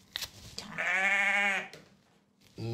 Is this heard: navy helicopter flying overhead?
no